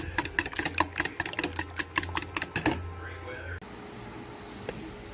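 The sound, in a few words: electric mixer beating banana bread batter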